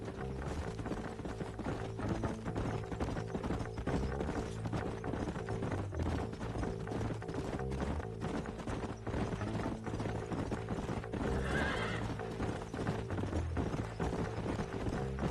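Steady clip-clop of horse hooves trotting along with faint rattling tack and a low musical backdrop in the video game Red Dead Redemption; no neighing stands out.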